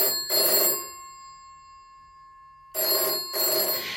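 A telephone bell rings in two loud, bright bursts separated by a pause of silence, the classic double-ring pattern of an old phone.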